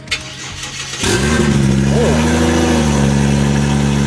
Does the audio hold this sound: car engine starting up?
yes